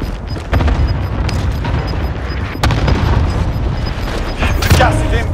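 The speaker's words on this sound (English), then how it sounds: "Enemy cluster strike incoming." Explosions from a cluster strike in Call of Duty Warzone on Rebirth Island, a series of loud booming blasts and rumbling impacts over about five seconds, with game voice callouts mixed in.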